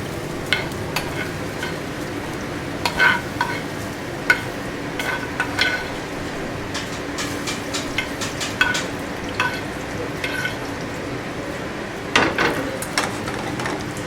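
Peppers, aubergines and onions stirred in a pan for caponata, a soft steady sizzle under repeated scraping and clicking strokes of a utensil against the pan, with no talk.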